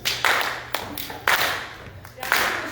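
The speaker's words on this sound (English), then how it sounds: "I want y'all to clap your hands like this" An audience at a Black History program claps along in a slow, steady rhythm, each sharp clap standing out clearly over a quiet room.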